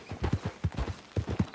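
Horse hooves clip-clop in a steady, even rhythm in Red Dead Online, a series of distinct close thuds with no voices over them.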